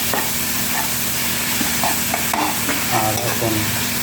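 Onions fry in a pan with salt and green chilli while being stirred, giving a steady close sizzle with scraping stir strokes throughout.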